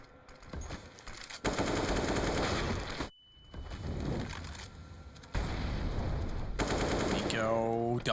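Rapid automatic gunfire bursts from a Counter-Strike: Global Offensive match, loud and repeated with brief pauses between volleys, plus a short sharp shot and a rising electronic tone near the end.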